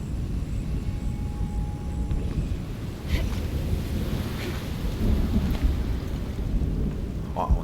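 Steady roaring stormy wind in the video game Shadow of the Tomb Raider, with heavy low rumble, gusting and swelling throughout, with faint whistling and occasional rattling bursts on top.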